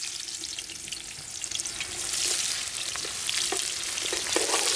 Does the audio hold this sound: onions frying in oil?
yes